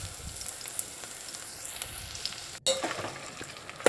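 Broad beans frying in a steel pan give a steady, faint sizzle with light scraping as they are stirred, then a brief break before the sizzling comes back a little louder.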